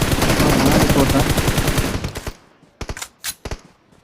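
Gunfire in the mobile shooter BGMI: a loud, rapid stream of shots ends abruptly, followed by a few separate sharp blasts after a short pause.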